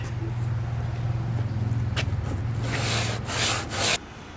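Rough abrasive rubbing of hard fiberglass and Bondo over a low machine hum, growing into harsher, louder scraping strokes toward the end.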